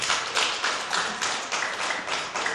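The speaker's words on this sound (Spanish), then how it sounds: "Denle un aplauso a Cristo" A church congregation clapping, a quick run of rhythmic, fairly faint claps that pulse steadily with no voices over them.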